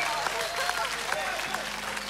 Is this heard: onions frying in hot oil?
no